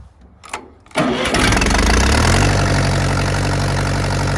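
A Ferguson TEA 20 tractor with a leaking carburettor cranks briefly and catches, then settles into a loud, steady, close idle that stays strong to the end.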